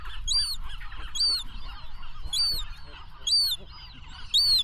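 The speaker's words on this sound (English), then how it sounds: "Turns out, on Anacapa, even the gull chicks want to be on camera." Gull chicks on Anacapa Island give repeated sharp, squeaky calls about once a second, close by, over a low background of wind and rustling.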